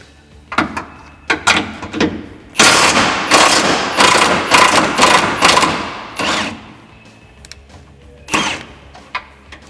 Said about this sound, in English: We're gonna loosen up the bolt that holds the leaf spring to the frame.